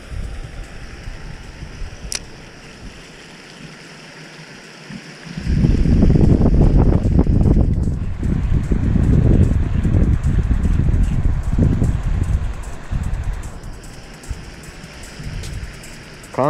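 Cold wind buffets the microphone outdoors on a bass fishing outing: a quiet hiss at first, then a sudden loud, low rumbling gust that lasts to the end.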